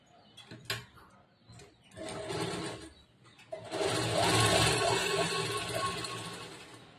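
A sewing machine stitches a blouse lining to the main cloth of a 40-inch blouse. A few short whirring bursts are followed by a long, loud, continuous run of stitching nearby.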